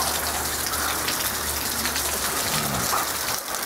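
Steady outdoor rain pattering close by on surfaces, a dense even hiss with scattered drips, with running water from a nearby gutter under it and no speech.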